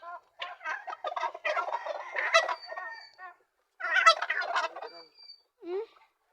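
Loud, rapid turkey gobbling on a small farm in two long bursts separated by a short pause, close by, with a brief softer call at the end.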